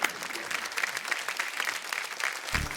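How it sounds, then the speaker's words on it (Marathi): A TV show studio audience bursts into steady, lively applause, loud and continuous with a dense patter of hands, swelling slightly at the end. "तर जोरदार टाळ्या झाल्या पाहिजे ताईंसाठी"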